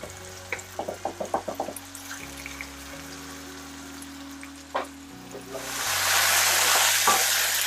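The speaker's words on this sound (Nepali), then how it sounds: "मजाले फ्राई गर्नुहोस्।" Meat sizzles in a pan for Nepalese pakku, with spoon clatter and stirring early on and a louder, hissing fry swelling toward the end over a steady background tone.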